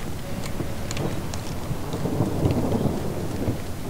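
In Sniper Elite 3, a storm rolls with steady heavy rain and deep rumbling thunder, a few sharp crackling strikes early on and a low rolling boom building toward the end, with no talk.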